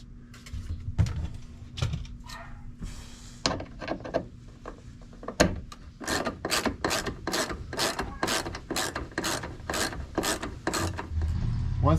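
Torx screw being backed out of interior trim in a Sprinter camper van, a run of quick regular ratcheting clicks speeding up toward the end, close and fairly loud, with scattered handling knocks beforehand.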